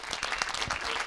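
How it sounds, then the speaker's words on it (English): An audience at a camera club general meeting claps steadily, a dense, continuous patter of many hands held at an even level for about a second. "I hope you can hear all the clapping."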